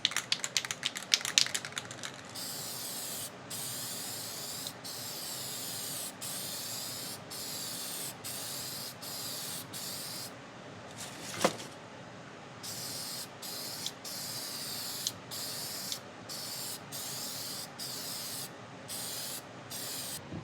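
A spray gun sprays a finish coat onto wood in a series of loud, close hissing bursts separated by short gaps, with a few knocks between them.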